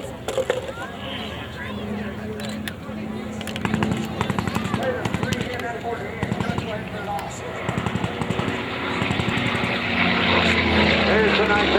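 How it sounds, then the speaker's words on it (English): A WWII F4U Corsair fighter, an FG-1D variant, makes a low pass over the runway at an airshow battle reenactment. Its propeller engine roar builds steadily throughout, mixed with sharp bursts of simulated gunfire, and a voice talks over it. "There's a nice edge pass by the F4U Corsair."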